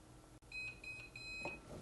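A heat press timer beeps in a short run of quick, high electronic tones, clear and close over faint background hum.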